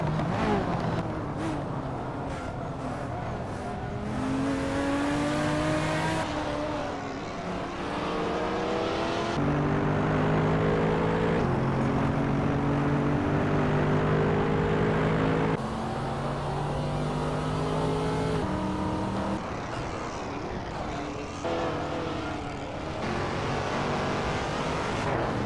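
Ferrari race car engines rev and shift through gears during a Hot Wheels race, with rising and falling engine tones and continuous loud motor noise throughout, cars passing repeatedly.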